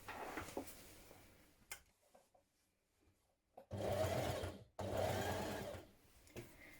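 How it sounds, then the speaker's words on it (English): A sewing machine top stitches a Burda 6527 sleeveless shirt, running in two loud, steady bursts of rapid whirring after a quieter stretch of fabric handling. "I'm going to top stitch it from the outside."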